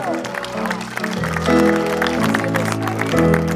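An audience breaks into sustained, loud applause, with music playing underneath throughout.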